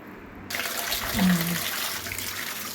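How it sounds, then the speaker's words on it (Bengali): Water from a submersible pump tap starts suddenly and runs in a steady, close gush for fish washing, with a voice speaking over it. "এবার আমাদের সাবমার্সিবলের কলের জল আছে, সেই জলেতে ধুতে যাবো, চলুন।"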